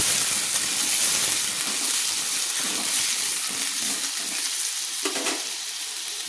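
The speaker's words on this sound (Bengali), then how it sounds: "দিয়ে একটু আলুগুলোকে আমি ভেজে নিচ্ছি।" Small potato pieces sizzle steadily in hot oil in a pan, stirred with a spatula for a fish-head kosha, with a dense, continuous crackle and occasional scraping clinks, close and fairly loud, with no talk.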